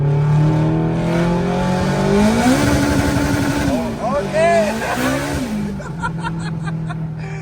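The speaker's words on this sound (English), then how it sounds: "They can hear the full exhaust of full throttle." Turbocharged Acura RSX at full throttle, its exhaust droning loud and steady with a revving rise and dip before settling, while people talk over it.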